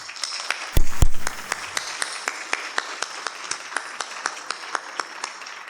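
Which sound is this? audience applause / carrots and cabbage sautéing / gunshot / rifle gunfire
audience applause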